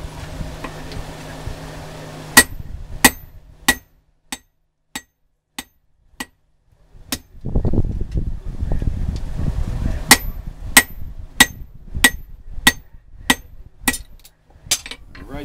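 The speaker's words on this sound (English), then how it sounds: "I'm using that corner of that anvil to work that edge out." Hammer strikes on coil spring steel over an anvil while forging a belt axe: sharp ringing blows land in a steady rhythm, pausing briefly, then resuming faster over a roaring forge fire.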